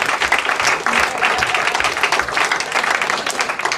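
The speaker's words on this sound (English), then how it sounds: "Let's give him a round of applause." An audience at a poetry slam in St Catharines breaks into dense, sustained applause, many hands clapping steadily at close range with faint crowd noise beneath.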